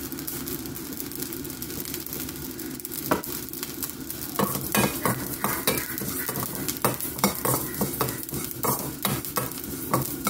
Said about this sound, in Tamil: வெந்தயம் நல்லா செவந்து வரணும். அதுக்கு மாதிரி சீரகமாக நல்லா பொரிஞ்சு வரணும்.